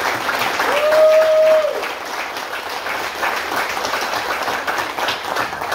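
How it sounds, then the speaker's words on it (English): A church congregation gives a round of applause welcoming eight new members, steady dense clapping throughout, with a brief sustained tone or voice rising above it early on. "Let's give them a round of applause."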